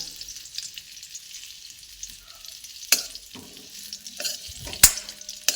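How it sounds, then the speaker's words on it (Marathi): Whole amla, Indian gooseberries, sautéing in ghee in a pan, a soft continuous sizzle broken by a few sharp scraping stirs and clinks of a ladle, close by. "तुपामध्ये आवळे आहेत ना पूर्ण परतले पाहिजे"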